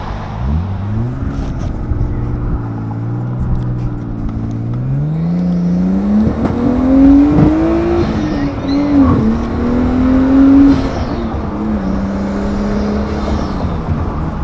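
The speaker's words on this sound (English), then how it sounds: "now we're taking off in the Skyline" A freshly painted R32 Nissan Skyline pulls away from a car meet, its engine rising in pitch through the gears, loud and close from inside the car with a steady road rush underneath.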